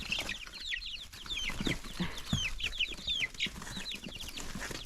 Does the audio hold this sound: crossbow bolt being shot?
no